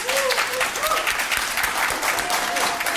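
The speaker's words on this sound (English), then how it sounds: "Can we give a big round of applause to Gordon?" Warm audience applause at a conference presentation, a full crowd clapping steadily and fairly loud, with a few faint voices rising above the clapping.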